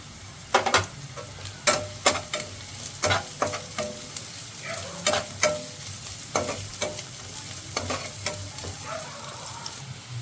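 Ginger garlic paste and capsicum sizzle in a pan at close range, with a constant frying hiss broken by repeated sharp stirring scrapes at an irregular pace.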